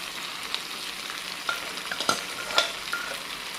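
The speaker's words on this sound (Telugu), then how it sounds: "ఇప్పుడు ఇది మ్యారినేట్ చేసి ఉడకబెట్టి పెట్టుకున్న మటన్ కూడా దీంట్లో వేసేస్తున్నాను." Marinated, boiled mutton is tipped into a hot pan and stirred for mutton pulusu, with a sizzle under scraping and a few sharp clinks of the utensil against the pan.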